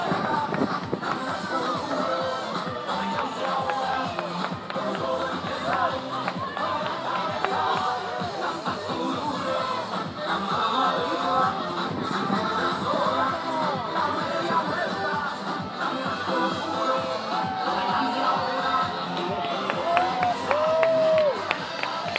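A crowd at an outdoor Canada Day race claps and cheers steadily throughout, with a dense, continuous wash of applause and yelling that holds at an even level from start to finish.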